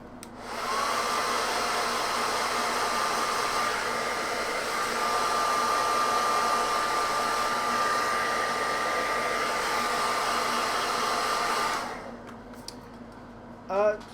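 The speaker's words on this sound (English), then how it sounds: "I'm going to hit it with a hairdryer." A hair dryer blows with a constant loud whooshing whine for about twelve seconds, then switches off.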